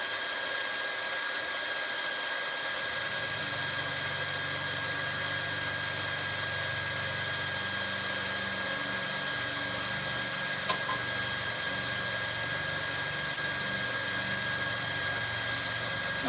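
A steady, droning power tool stripping epoxy from a sea fishing rod runs continuously with a constant mechanical hum and whine, fairly loud and close, with no talking over it.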